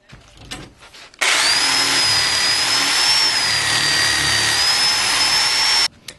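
A reciprocating saw rounds off a wooden bowl blank for lathe turning, a loud, sustained, high-pitched motor whine cutting in abruptly, holding steady for about five seconds, then stopping.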